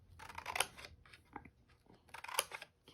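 Scissors cut through a recycled greeting card in short crisp snips, two clusters of close crunchy cuts with lighter clicks between them, quiet and with no talking.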